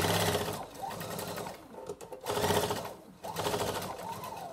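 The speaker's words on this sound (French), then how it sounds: "je vais fermer ma couture de côté" A sewing machine runs in three bursts stitching the side seam of a fabric pouch, its steady whirring motor pausing briefly between runs, close and fairly loud with no talking.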